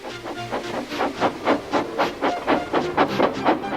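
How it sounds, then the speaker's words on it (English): A steam locomotive chuffs in a steady rhythm, each puff a sharp burst of hissing steam, about three per second, close and clear. "with much noise and blowing of steam"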